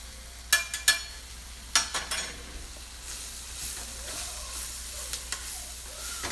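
Turmeric, red chili and coriander powder fry in hot oil with whole garam masala as a spoon scrapes and stirs the pan, with sharp clatters early on and then a soft steady sizzle.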